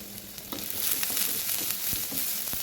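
Steady sizzling and crackling of garlic sautéing in a hot pan, with occasional stirring clinks, fairly close.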